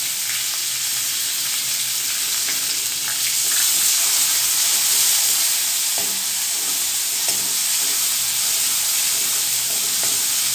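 Finely chopped onion fries in a pan for an Indian vegetable dish, giving a steady, close hiss with occasional soft clicks from stirring, and no voices.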